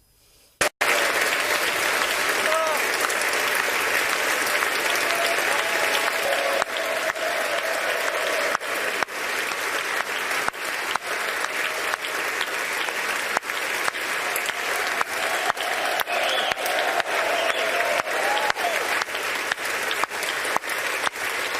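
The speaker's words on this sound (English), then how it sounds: "the majority whip was greeted with thunderous applause from both sides of the aisle this morning" Thunderous applause in the House chamber on Capitol Hill as lawmakers from both sides greet a returning congressman, dense sustained clapping that starts abruptly and continues loudly without a break.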